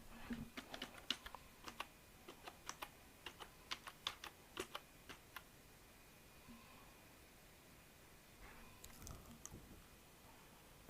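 Password typed on a computer keyboard: a quick run of crisp, close key clicks in bursts for several seconds, then a short pause and a final cluster of taps, over faint room hiss.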